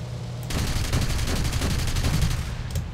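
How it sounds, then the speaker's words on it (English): Rapid cannon and gunfire in a War Thunder battle as armor-piercing tank rounds are fired at a light pillbox, a dense, sustained burst of repeated shots that starts abruptly and continues loud throughout. "as we try to line up this light pillbox with our armor-piercing rounds, which are tank-killing rounds"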